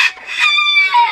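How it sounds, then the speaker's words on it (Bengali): Foreign breed chickens on a farm in Bagerhat give a short, close, loud burst of clucking and crowing-like calls. The calls are clear and harmonic, alone with no talk. "প্রতিটি মুরগি নজর কাড়া।"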